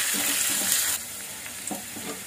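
Curry leaves, cumin and green chillies sizzle as they are stirred in a clay pot, a steady close frying hiss that drops slightly partway through, with soft scraping stirs.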